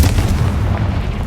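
Confringo blasting spell explosion in the video game Hogwarts Legacy, a loud deep booming blast with a rumbling low-end tail heard on its own.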